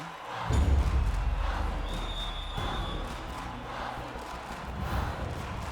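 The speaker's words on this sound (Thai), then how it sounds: "ผมนึกออกว่าเสียงเชียร์ในสนามจะกึกก้องขนาดไหน" A packed stadium crowd roars during a women's volleyball match between China and Brazil at the Rio Olympics, a loud sustained cheer that swells early and keeps on.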